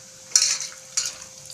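Bread bonda, potato-stuffed bread, drops into hot oil, giving two short bright sizzling bursts about half a second apart, each fading quickly, under a faint steady hum.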